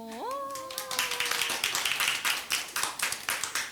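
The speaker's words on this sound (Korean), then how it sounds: "우리 선생님들 정말 박수 잘 쳐주세요." An audience of teachers at a talk show during a local creators' festival in Yeosu claps in rhythmic, evenly spaced bursts after a brief sustained tone at the start.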